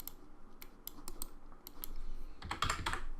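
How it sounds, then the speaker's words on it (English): Typing on a computer keyboard, a string of quick, close key clicks in uneven bursts, ending in a louder flurry of keystrokes. "What we need to do is we need to type in get player character."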